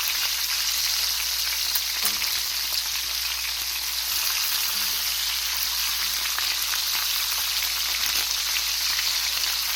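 Bacon-wrapped snipe sizzle and crackle steadily in a pan, a dense, even frying hiss that runs without break and with no voices over it.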